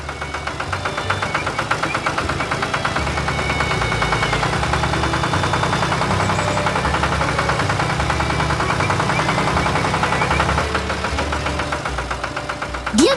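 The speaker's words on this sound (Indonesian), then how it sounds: "Sekarang giliran si traktor merah untuk bekerja." Steady engine of a red tractor in an animated cartoon drives along, a continuous low rumble with a knocking idle character that holds level throughout, loud and close, ending with a short sharp sound.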